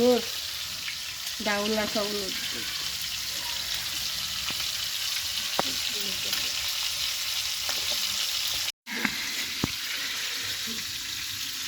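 Chicken pieces frying slowly on a tawa over low heat in a village kitchen, a steady soft sizzle running throughout with occasional clinks and scrapes of a utensil and a brief dropout near the end.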